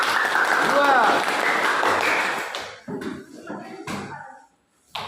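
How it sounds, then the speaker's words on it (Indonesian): Students in a classroom clap for group 2, a dense burst of applause lasting a couple of seconds before dying off into scattered claps and murmuring voices. "beri aplaus dulu kepada kelompok 2"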